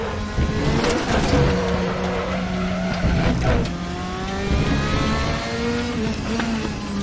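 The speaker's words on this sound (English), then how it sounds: "This car sounds so amazing." A racing car in a VR racing game roars at high revs with a continuous, loud engine drone, rising and falling with gear changes, while tires squeal intermittently through the corners.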